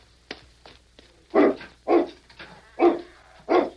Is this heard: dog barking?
yes